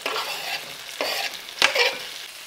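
Roasted red peppers and garlic hit a pan over medium-low heat, sizzling and frying as they are stirred in a few quick, scraping strokes, close and clear with no talking.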